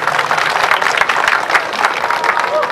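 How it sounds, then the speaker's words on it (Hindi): An audience at a football tournament prize distribution in Ranchi applauds steadily, a dense continuous patter of many hands clapping at moderate distance. "तालियां बनती है नहीं इनके लिए"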